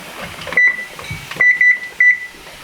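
A kitchen timer set during pressure canning of kidney beans gives several loud, clear electronic beeps in short irregular bursts, close by with little else around them.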